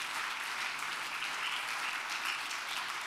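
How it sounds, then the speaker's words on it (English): A church congregation claps in praise during an evening worship service, an even wash of many hands at moderate distance, steady throughout with no voices standing out. "Give the Lord a good hand clap of praise tonight."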